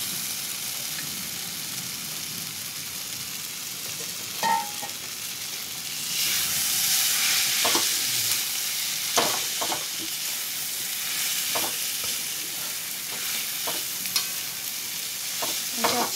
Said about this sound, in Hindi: अब हम इसमें आलू मैश आलू मिलाएंगे।